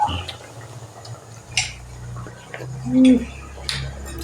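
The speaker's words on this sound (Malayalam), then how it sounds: "ചെറുതായിട്ട് അങ്ങോട്ട് ഇളക്കാം" A utensil scrapes and taps against a pan while spice paste for a squid stir-fry is stirred, with soft intermittent clinks and one brief louder scrape near the end, set against a low kitchen hum.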